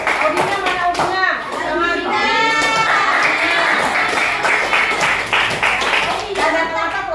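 Classroom clapping from a group of pupils: a few sharp hand claps at the start, then children's voices and chanting over scattered clapping, close and fairly loud.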